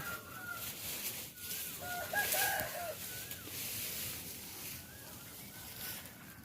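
A rooster crows repeatedly in the early morning, its loud drawn-out calls rising over steady clucking from other nearby fowl, with no talking.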